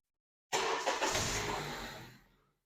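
A 2013 Honda CR-V engine cranks and starts after an oil change, catching abruptly and settling into a loud, close idle that fades over about two seconds.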